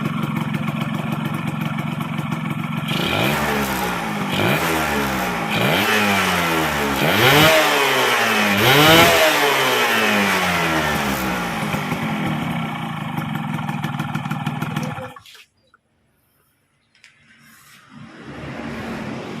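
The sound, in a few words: Yamaha F1ZR motorcycle engine revving with PE24 carburetor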